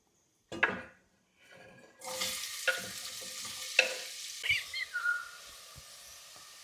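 Onions tipped into a hot pan with cumin seeds and a couple of dried red chillies break into a steady sizzle after a few stirring knocks, with scattered clinks of a spoon against the pan.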